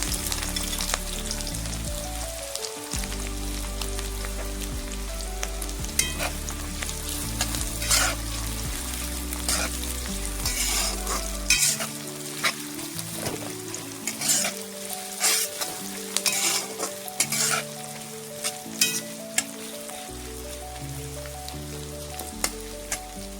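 Onions sizzle steadily in hot oil with cinnamon, a cut bay leaf and white pepper for a duck meat curry, with frequent scraping stirs of the spatula throughout and no talking.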